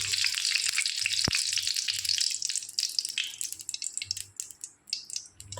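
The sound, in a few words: frying bitter gourd in oil in a wok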